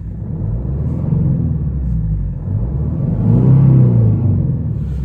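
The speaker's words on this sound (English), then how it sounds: "I'm going to give it a quick rev so you can hear it." A 2007 Jeep Cherokee 2.8 CRD diesel with a six-speed manual is given a quick rev, its gruff low rumble idling close by, then swelling into a louder rev before settling back.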